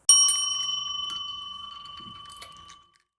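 A bright bell struck once for a notification effect, ringing clearly with a sustained metallic tone that slowly fades over about three seconds, heard alone.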